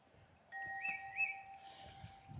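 A bird sings in a spring garden, its clear whistled phrases carrying at moderate distance over a quiet background, with soft rustling beneath and no talk.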